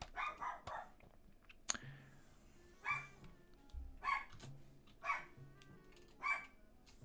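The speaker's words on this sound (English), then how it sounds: "The dog's going crazy." A dog barks excitedly in a short series of sharp, repeated barks spaced about a second apart, moderately close in an indoor room, with a thump and faint background sounds between them.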